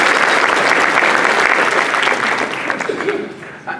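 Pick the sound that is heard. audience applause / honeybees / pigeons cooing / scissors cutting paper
audience applause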